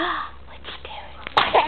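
A single sharp sneeze bursts out near the end of a short stretch, after soft talk to a baby, with a brief burst of sound following.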